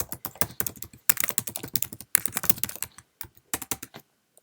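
Rapid bursts of keystrokes on a Mac computer keyboard, close and crisp, arriving in quick clusters with short pauses between words and no talking.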